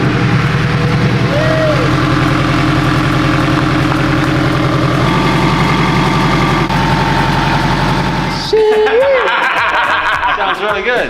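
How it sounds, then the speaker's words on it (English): A turbocharged all-wheel-drive Honda Integra idles steadily up close, its low rumbling hum continuous for most of the stretch, with people chatting and laughing over it before a brief shift near the end. "And it's idling perfect too."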